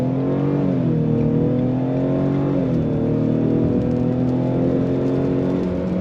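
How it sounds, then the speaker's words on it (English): A 2022 Ford Explorer ST-Line accelerates with a steady, fairly loud engine drone whose pitch climbs and then drops as the 10-speed automatic shifts smoothly, with no talking over it. "Nice, smooth shifting out of the 10-speed automatic."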